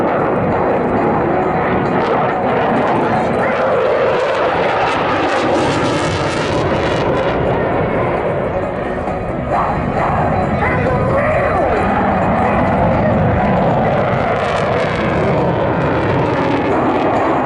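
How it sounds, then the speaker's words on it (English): Eurofighter Typhoon jet performing high-g manoeuvres at the Southport Air Show, a loud, continuous roaring engine sound that swells and shifts as it pulls around, with a commentator talking over it. "Pulling hard back towards you, Flight Lieutenant Peterson is pulling up to"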